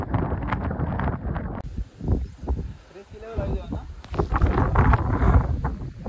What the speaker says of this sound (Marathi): एवढं वारा इथं